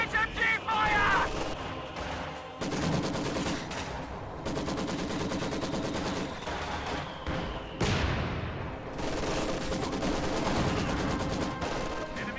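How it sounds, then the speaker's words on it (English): Sustained heavy machine gun fire in a World War II real-time strategy game battle, a dense rapid rattle of gunfire mixed with distant explosions and game sound effects running throughout. "Incoming HMG fire!"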